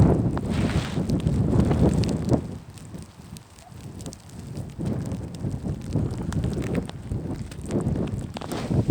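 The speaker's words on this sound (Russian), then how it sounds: "В глаза так дует иногда, что прям это, даже смотреть невозможно. Прям этой трухой или как ее там, пургой этой, глаза заметает." Blizzard wind gusts roar and buffet outdoors, driving snow in surges that swell and ease, loud and close against the microphone.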